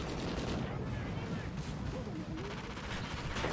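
Enemy gunfire in a first-person shooter video game: dense, continuous shots and bursts from several guns, with a dull rumble underneath and a brief voice mixed in.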